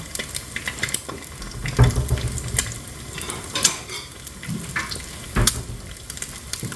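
An egg fries in a pan with a close, crackling sizzle, mixed with clattering kitchen knocks and a running-water wash in the background. The bursts are uneven and grow louder around the middle.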